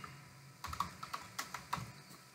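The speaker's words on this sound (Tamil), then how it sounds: "இமெயில் ஐடி டைப் பண்ணுறேன்" An email address being typed on a computer keyboard while a SharePoint list item is set up, a quick run of close, crisp key clicks with short pauses between bursts and no talking.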